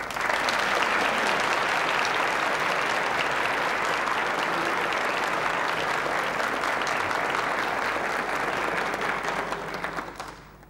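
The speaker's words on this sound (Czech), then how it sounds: "Potlesk, který právě dozněl, právě utuchl, je potleskem, který vyluzuje jako vždycky naše obecenstvo" Sustained studio audience applause at a 1976 Czech television family singing contest, steady dense clapping from a sizable crowd lasting around ten seconds before tapering off at the end.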